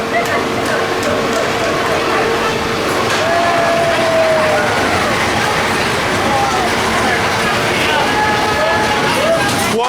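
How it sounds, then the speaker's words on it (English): A kiddie family roller coaster train at Six Flags Fiesta Texas runs along its track with a continuous rolling rumble and clatter, loud and close, with people talking over it and a brief whistling tone. "Quite a nice, smooth family coaster, that one."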